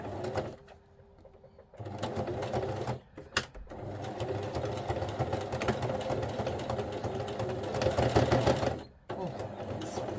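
A sewing machine slowly stitches a zigzag through a thick journal cover, running in a steady mechanical whir with a couple of short stops, close up.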